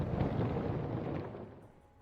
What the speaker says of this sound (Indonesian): Rambutmu berdiri tegak, kekuatan ledakan kosmis ini terasa menakutkan.